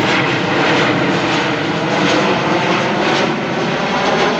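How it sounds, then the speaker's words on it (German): A loud, steady airplane roar passes close overhead at a quarry lake, broadband and sustained throughout with no voices. "ich werde hier von dem Flugzeug belästigt."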